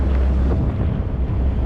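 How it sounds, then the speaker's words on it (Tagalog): Wind buffets a boat heading into the wind, a loud continuous rumble with heavy microphone wind noise and rushing water beneath it. "Salubong pa tayo sa hangin."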